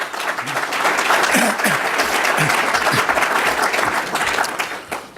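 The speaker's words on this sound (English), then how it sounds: "Let's give them a round of applause." Audience applause at a panel event honoring guests, dense and steady clapping filling the room for about five seconds, with a few voices mixed faintly underneath.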